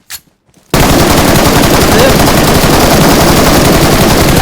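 Loud, sustained automatic gunfire from the mobile shooter PUBG Mobile erupts after a brief near-silent opening and then pours out continuously and densely to the end.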